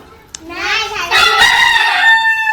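A rooster crows loudly nearby among chickens on a poultry farm, one long drawn-out call rising and holding, after a soft click at the start.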